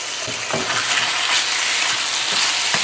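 Pork seasoned with black pepper and salt sizzles and fries in a pot while being stirred, a steady close crackle with occasional scraping of the spoon.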